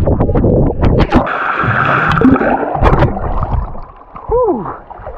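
Water splashing and gurgling at a pool or water park in Raipur, close and loud, with choppy bursts and wind buffeting the microphone, and a voice briefly heard near the end.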